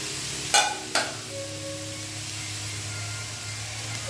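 Potatoes, carrots, cauliflower and beans sautéing in a pan give a steady, close hiss, with two brief clanks of stirring near the start and a faint hum underneath.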